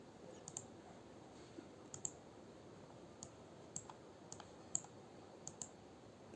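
While an income tax return form is filled in online, a computer mouse gives about a dozen faint, sharp, irregularly spaced clicks over a quiet room hush.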